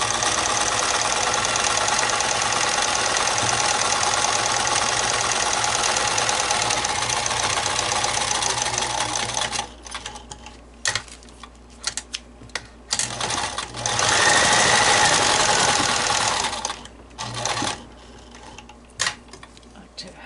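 A domestic sewing machine stitches elastic onto a fabric mask, a rapid mechanical whirr running steadily for about ten seconds, then stopping and restarting in short bursts, close up with a person talking in the pauses.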